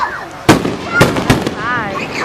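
Fireworks Tommy Gun Effect at a 4th of July display: three or four sharp, loud bursts in quick succession, followed by a wavering whistling trail, with a voice talking faintly beneath.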